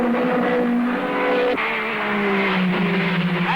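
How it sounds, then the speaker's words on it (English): 1957 Formula 1 Ferrari race cars blast past at the Nürburgring, loud droning engines with falling pitch as they sweep by, one car following another in close succession on the open circuit. "There go the Ferraris."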